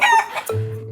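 A chicken found as a stray near Bondi beach lets out a short burst of clucks up close, followed by a low steady hum in the background.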